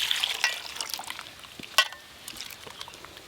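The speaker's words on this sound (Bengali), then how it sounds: "এবার জল দিয়ে ভালো করে ধুয়ে নেব।" Raw potatoes being rinsed by hand in water, to be ground afterwards: light intermittent splashing and trickling, with one sharper knock partway through, close by and without talk.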